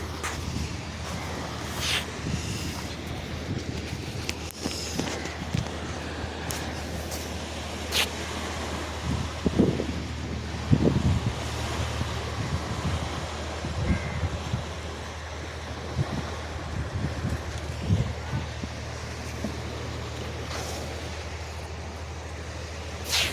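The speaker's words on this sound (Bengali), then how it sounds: "Digha sea beach" Morning sea wind and surf on Digha sea beach, a steady broadband roar of waves and gusting wind across the microphone, with a few louder swells rising out of the continuous wash.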